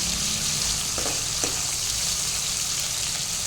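Brinjal and fish curry ingredients fry in hot oil, giving a steady, close broadband sizzle that runs unbroken throughout, with a couple of faint clinks partway through and no voices.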